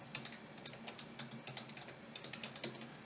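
Rapid keystrokes on a computer keyboard as a Linux move command is entered, a steady run of close, distinct clicks across the whole moment with no talking.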